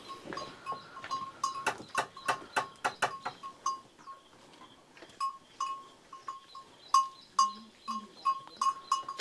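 Goats at a rural home bleat over and over, several animals near and farther off, with a sharper cluster of calls early and scattered cries after, plus a faint low voice near the end.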